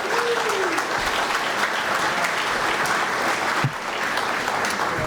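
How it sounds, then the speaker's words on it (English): An audience at a city State of the City address claps in sustained, loud applause for the whole span, with a small thump near the end. "let's give them a round of applause"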